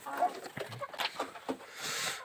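Chickens in a coop give a few short clucks and squawks close by, scattered across a couple of seconds, while a person speaks.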